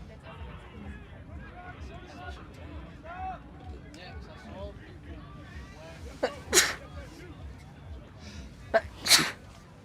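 Two sharp, loud sneezes burst out a few seconds apart over a background of commentary and distant crowd noise at a Florida State versus Alabama lacrosse game.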